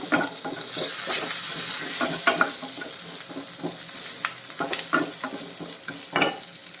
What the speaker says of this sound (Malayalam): കുറച്ച് കറിവേപ്പിലയും കൂടെ ഇട്ട് കൊടുക്കാം മീഡിയം ഫ്ലെയിമിൽ വെച്ചിരുന്നാൽ മതി